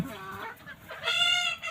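Hens in a backyard coop cluck steadily nearby, and a longer, louder drawn-out cackle rises midway, the kind a hen makes after laying an egg in the next-door nest box.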